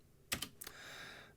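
A few quiet, crisp keystrokes on a computer keyboard as a short rm command is typed, with two quick pairs of clicks followed by a faint fading tail.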